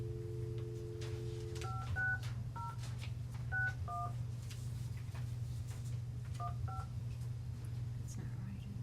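A run of telephone keypad dialing tones, paired beeps sounding in short bursts, then a brief pause before a final group of tones. They come through a conference-room phone system over a steady low hum, with murmured voices faintly in the background.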